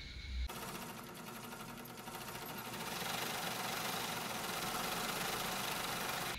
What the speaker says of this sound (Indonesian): mendengar nih suara motor